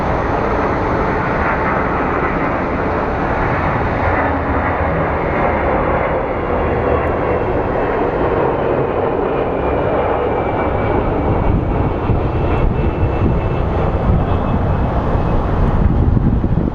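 Steady roar of jet airliners at Phoenix Sky Harbor International Airport, a loud, continuous broadband engine rumble with wind buffeting, sustained and rising slightly over its length, no talking.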